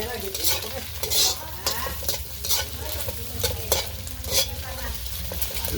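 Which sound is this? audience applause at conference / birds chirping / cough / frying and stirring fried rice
frying and stirring fried rice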